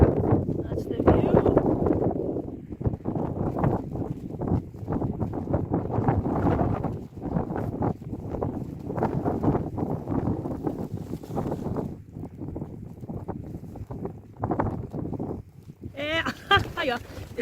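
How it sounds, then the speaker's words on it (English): Strong wind gusts buffet a microphone on a 449 m hilltop, with heavy low rumbling surges that rise and fall throughout while someone talks over the noise. "Wind's kicking in a bit."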